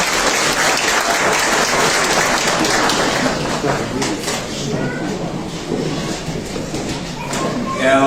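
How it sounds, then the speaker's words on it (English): Audience clapping for an inductee at a Far West sporting hall of fame evening, a loud burst that gradually thins, with some voices mixed in near the end. "round of applause to Phil Wilson"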